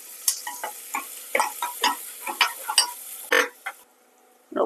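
Round-sliced shallots being stirred and fried in a pan, a series of close scraping strokes over a soft sizzle, falling into a rough rhythm with brief pauses and no talk.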